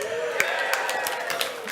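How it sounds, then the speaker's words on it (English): Audience at the 23rd Annual Learning Awards in the Dorchester breaks into cheering, with whoops and sharp claps over a steady crowd roar, lively and close. "You can't cheer at the end of every paragraph, because we won't get through this"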